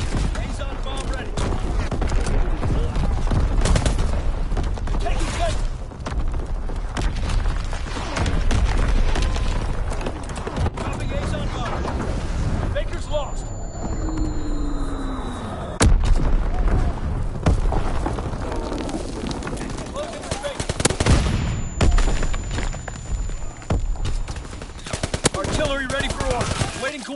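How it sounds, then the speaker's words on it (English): Continuous video game battle audio with artillery blasts and rattling gunfire, loud bursts of shots and booms layered over each other throughout, with in-game voices calling out amid the din. "Incoming enemy artillery! Get to cover!"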